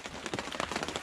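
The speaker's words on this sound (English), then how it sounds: "It's obviously it's still pouring down with rain." Heavy rain pouring down at a campsite, a close, continuous pattering and drumming of drops on a surface, loud and steady with no voices.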